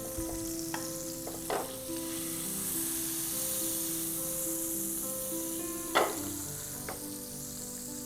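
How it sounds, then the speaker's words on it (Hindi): Butter sizzles and melts in a pan on the stove, a steady frying hiss throughout, with a few sharp crackles and pops and a faint clink of a utensil, no talk heard. "जैसे ही बटर सिजल होके मेल्ट हो जाता है"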